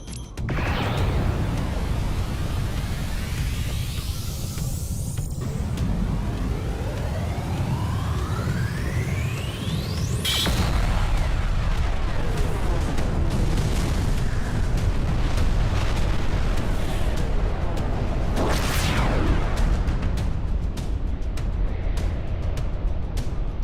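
Loud, continuous animated sci-fi weapon fire and explosions from giant transforming robots in battle, dense roaring blasts with rising and falling whooshing sweeps across the whole stretch, no speech.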